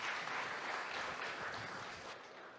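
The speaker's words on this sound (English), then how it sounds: "Round of applause, everyone" A conference audience at a TechChill startup event applauds steadily, a dense, loud wash of clapping from the crowd that tapers slightly toward the end, with no one speaking over it.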